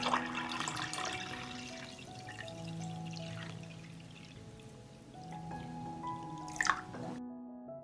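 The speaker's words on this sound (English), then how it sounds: "I will pour water up to the height of the lid." Water is poured into a cloth-lined pot holding glass jars, filling up to the lids, with a steady trickle and drips over soft tonal music.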